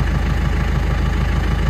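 A Landini Rex 100 GE tractor idles in neutral with a cold engine, a steady low throbbing diesel chug, loud and close, alone without talk.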